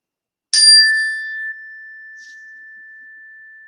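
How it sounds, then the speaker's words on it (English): A single chime rung during a children's yoga class: one bright metallic strike that rings out clearly and decays slowly into a long, pure sustained tone with nothing else heard. "I'm going to ring my chime again"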